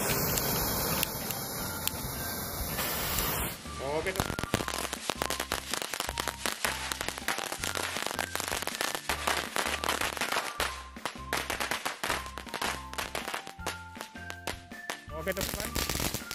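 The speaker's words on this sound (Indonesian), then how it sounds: "Di sebelah sini yang Color Smoke Corsair, sebelah sini mercon Piccolo. Ini dia, kita hidupkan berbarengan." Color Smoke Corsair and Piccolo firecrackers lit together: a steady fizzing fuse hiss, then a long, dense, loud run of sharp crackling pops bursting in rapid irregular succession, close by.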